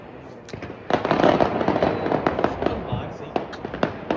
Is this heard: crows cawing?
no